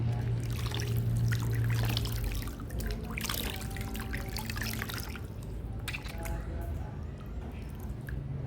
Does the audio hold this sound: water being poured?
yes